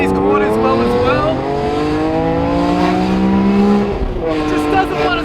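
A BMW E46 M3 with a naturally aspirated engine accelerates hard, the tone climbing steadily through the revs with a harmonic howl, then dropping at a gear change before pulling again, loud and close from inside the car.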